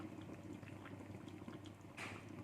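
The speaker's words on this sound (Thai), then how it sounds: "ให้กะทิเดือดนิดนึงค่ะ" Low, steady bubbling of coconut milk simmering in a small pot, with soft popping throughout and a brief hissy swell near the end.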